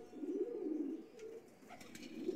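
A pigeon coos softly in a low, rolling repeated call, fairly close but quiet, with no talk over it.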